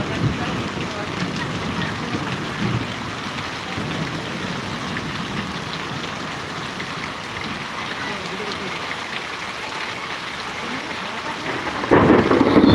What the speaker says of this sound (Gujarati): વીજળીના કટાકા ભડાકા જબરજસ્ત થાય છે